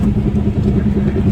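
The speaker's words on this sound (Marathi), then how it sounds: "AC ऑन आहे, गाडी व्यवस्थित चालत आहे" A 2007 Maruti Alto, nineteen years old and bought second hand, cruising on a road at around 60 to 80 km/h with the AC on, giving a loud, steady engine drone and road rumble from inside the cabin.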